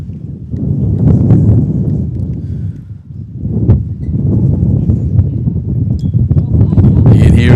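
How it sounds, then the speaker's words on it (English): Strong wind buffets the microphone in heavy, rumbling gusts at an outdoor bowls pairs match, swelling and easing over several seconds with a constant low roar. "You can hear that wind now, the gust."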